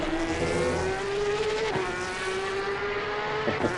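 Porsche Cup race cars at speed on a circuit, engines rising and falling in pitch as cars pass, loud and continuous with no voices.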